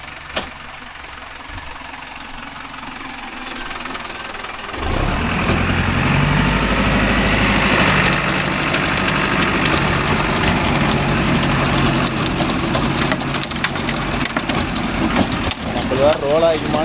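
A Mahindra Arjun Novo 605 S tractor runs a rotavator. The diesel engine hums steadily at first, then surges into a loud, sustained rumbling roar as the rotavator works, close and continuous.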